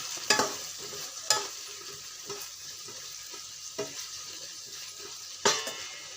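Radish fries on a low flame with chilli, salt, turmeric, garam masala and cinnamon-clove powder, a steady soft sizzle broken by a few sharp scrapes and clinks of a spoon stirring in the pan.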